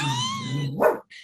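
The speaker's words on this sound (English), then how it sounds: "That's my dog Moose barking in the background." A dog barks nearby in a single loud, drawn-out bark that tails into a brief yelp, heard alone with no talk over it.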